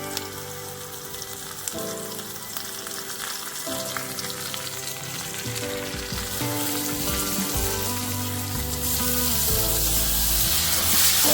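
Tomatoes hit a pan of frying onion and spices for green peas kurma, a loud close sizzle that builds steadily over several seconds with scattered stirring knocks and no voices.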